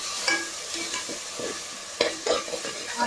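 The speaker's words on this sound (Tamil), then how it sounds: "இப்போ வெங்காயம் ஃப்ரை ஆகிட்டு" Onions fry for a Tamil mushroom gravy with a continuous gentle sizzle. Brisk stirring scrapes and a few sharper utensil knocks against the pan sound close by.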